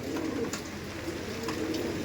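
Andhra pigeons coo softly in repeated low, throaty calls, a close, gentle murmur with a few soft flutters and no speech over it.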